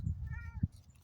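A cat gives one short, faint meow over low background rumble, heard up close and alone without any talking.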